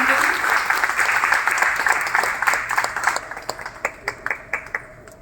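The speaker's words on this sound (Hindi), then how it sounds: "एक बार जोरदार तालियां हो जाए सभी को" An audience at a community service society event applauds loudly, then the clapping thins into a few distinct, spaced claps as it winds down near the end.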